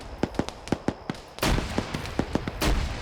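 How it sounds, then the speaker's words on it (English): Grenades bursting in a video-game firefight, with a quick run of sharp bangs followed by heavier, louder blasts rumbling one after another at close range. "Ooh, grenades. A lot of grenades."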